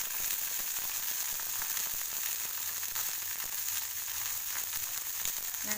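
Onion and peas fry in a pan for vegetable shavige bath, a steady bright sizzle close by with faint crackles and no voices.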